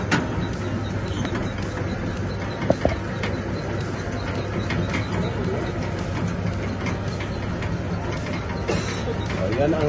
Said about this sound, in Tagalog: Tapos buhayin natin yung shredder machine